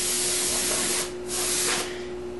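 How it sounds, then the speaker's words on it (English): Compressed air blows dust out of a computer case in short, sharp hissing blasts, close and fairly loud, with two brief gaps between the bursts. "you can use some compressed air to blow it out."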